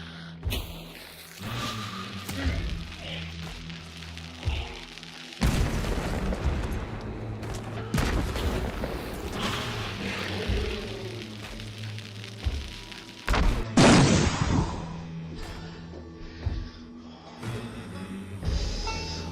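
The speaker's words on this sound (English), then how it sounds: "The explosions in the tutorial truly raised my eyebrows." Explosions in the Hunt: Showdown tutorial go off as several loud booms and sharp blasts, spaced irregularly with rumbling decay between them and quieter game noise in the gaps.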